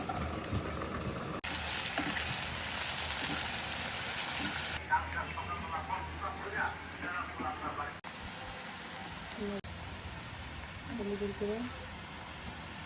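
Chopped garlic and garlic paste sizzle in hot oil in a wok, a steady hiss that shifts in strength, while a person talks over it.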